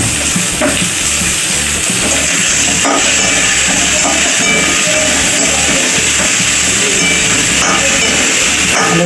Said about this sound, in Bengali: আলুটা আমি ভেজে নিই লাল লাল করে।